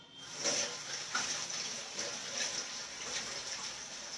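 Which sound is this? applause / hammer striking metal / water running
water running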